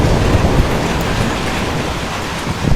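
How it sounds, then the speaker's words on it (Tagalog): Heavy rain pours steadily in a dense, continuous roar, loud and close, with no voices. "Paano ba titigil yung ulan na yan"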